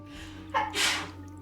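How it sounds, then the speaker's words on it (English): A woman sneezes once nearby: a quick sharp inhale followed by a loud, breathy burst, over a low background hum. "my wife just sneezed"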